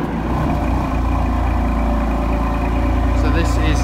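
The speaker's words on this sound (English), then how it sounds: "this car has the full MPerformance titanium exhaust system. My colleague's just gonna let us have a little listen to it." BMW M4 Competition coupe with a full M Performance titanium exhaust in efficient mode with the valves closed, giving a steady low engine drone that holds at a constant level without revving, with a few brief higher sounds near the end.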